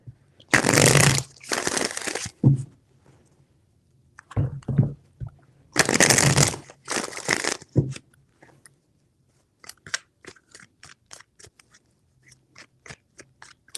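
Tarot cards being shuffled in bursts: two long broadband rustles, a few short riffles, then another pair of long shuffles, followed by a scattering of light taps and flicks as the deck settles.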